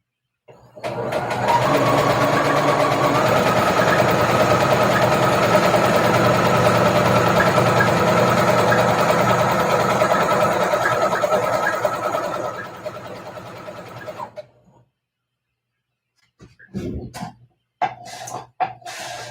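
A sewing machine stitches channels into fabric for tutus, a steady continuous motor whir running near and loud for about twelve seconds before stopping, followed by a pause and a few short bursts of handling noise.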